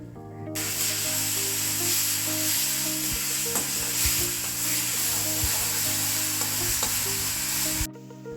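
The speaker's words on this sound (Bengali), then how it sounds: "এবার ভাজা পটলগুলোকে দিয়ে দিন এবং ভালো করে কষাতে থাকুন।" Pointed gourd pieces stirred and fried in a pan, a steady close sizzle with scraping spoon strokes and occasional clinks running continuously, no voices.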